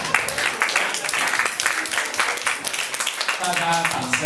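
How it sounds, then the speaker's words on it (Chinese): Audience applause at an awards ceremony, a steady wash of clapping running throughout, fairly loud and close, with voices mixed in under it. "大家掌声都热烈一点，再一次啊"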